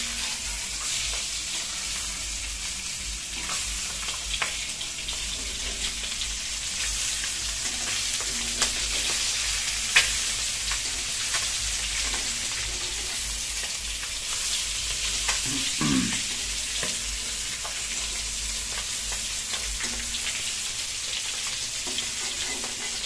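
Eight eggs fry in a pan for an egg and potato curry, giving a loud, steady, crackling sizzle with occasional stirring scrapes and spatters, close up, continuous and free of any talk.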